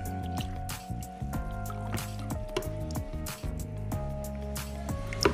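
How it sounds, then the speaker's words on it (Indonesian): Pineapple juice pours steadily into coconut milk held in a plastic container, a continuous liquid trickle and splash, with a few brief clicks and a low background hum. "kemudian dituang juga sari nanas sebanyak 200 ml ke dalam"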